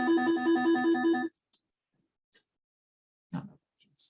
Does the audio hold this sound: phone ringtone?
yes